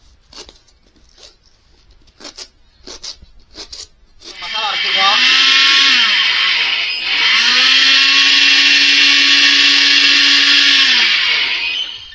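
A kitchen mixer grinder grinds ginger masala for mutton dalcha, a loud steady high-pitched whir lasting several seconds that dips briefly in the middle, after a few short clicks and taps.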